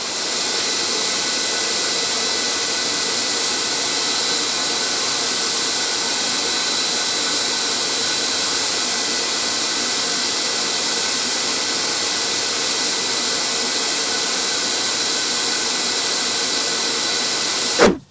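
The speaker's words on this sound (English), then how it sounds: "So that's the bead all sanded up." Continuous broadband whoosh of a wood lathe spinning while a bead on a wooden platter is sanded, loud and unbroken until it cuts off abruptly at the end.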